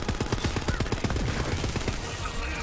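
Dense rapid gunfire from Borderlands 3 gameplay, with rockets and pistols firing in quick overlapping bursts, loud and continuous throughout.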